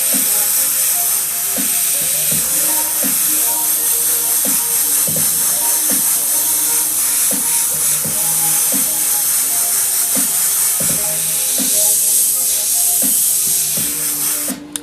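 A sandy-colored paint hisses steadily from an airbrush during graffiti-style art work, a continuous airy spray broken by short clicks and faint handling sounds nearby.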